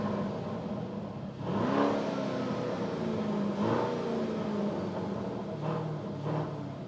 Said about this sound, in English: listen to that switchable sports exhaust